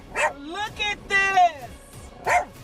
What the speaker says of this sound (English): setting the dog off barking as well